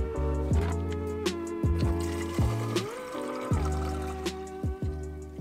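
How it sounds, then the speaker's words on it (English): Distilled water pours and trickles into a developer solution in a container, a close gurgling stream broken by repeated glugs and splashes as the level rises, with no one talking. "finally top this solution up with distilled water until you reach 1 liter"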